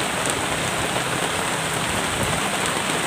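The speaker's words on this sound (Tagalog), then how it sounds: "Ayan, lakas ng ulan." Heavy rain falls steadily over a vegetable garden of sponge gourd and string beans, a dense, even hiss of drops on surfaces close by with no break and no talk.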